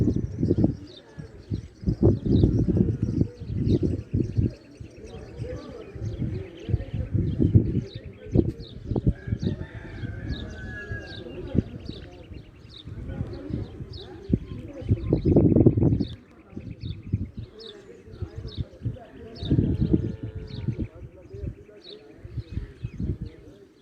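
About seventy-eight pigeons coo in soft, repeated low bursts throughout, mixed with scattered chirps and rustling, while people talk nearby for much of the time.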